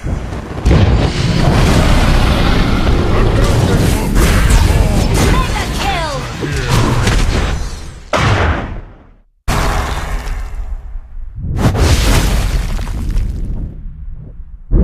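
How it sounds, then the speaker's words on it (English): A turret collapsing in Mobile Legends, where heavy explosive booms and crashing bursts roll on for many seconds with brief pauses, while a game announcer's voice speaks over the action. "Your team destroyed a turret!"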